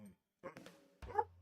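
An old dog named Holmes gives a few short close whimpers and soft yips in a quiet room, mixed with a person talking to him.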